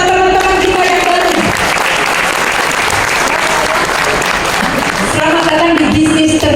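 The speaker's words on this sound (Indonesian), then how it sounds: "Kita beri tepuk tangan buat teman-teman kita yang baru." Audience applause at a business presentation event in Bandung welcoming newcomers, loud and sustained steady clapping from a large crowd, with a voice briefly audible near the start and end.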